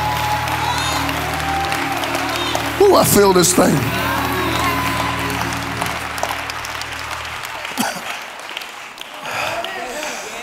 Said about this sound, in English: Clap your hands if you want to go with me.